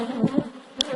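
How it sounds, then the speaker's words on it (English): Honeybees buzz close by during a hive inspection, a very active colony giving a short, loud hum with a few brief louder swells. "These are very active bees."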